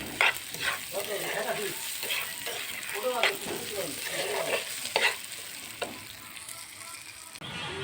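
Food stirred and fried in a pan in a village home kitchen, a steady sizzle broken by repeated scraping and clattering strokes of the spoon, close and clear with no talk over it.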